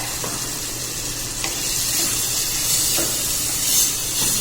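Tuna flakes sautéing with garlic, onion, tomato and ginger in a hot pan, giving a steady close sizzle and hiss throughout with a few faint clinks of stirring.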